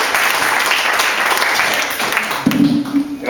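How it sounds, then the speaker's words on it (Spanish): Audience applause at a book presentation on homophobia in Madrid, a steady wash of clapping from a seated crowd that carries on loudly, with a brief voice breaking in near the end. "Le vamos a dar un aplauso, por favor."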